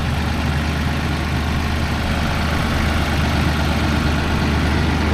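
A Massey Ferguson 4710 tractor engine idling close by, a loud, steady low diesel rumble with a constant throb that never changes pitch or level, with no voices.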